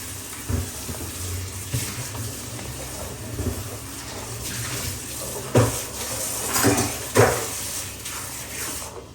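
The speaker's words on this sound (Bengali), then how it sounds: "আমি হাতটা ধুয়ে আসি" Hands are washed under a running kitchen tap, a steady rush of water with occasional louder splashes and sloshes, close by and with no one talking.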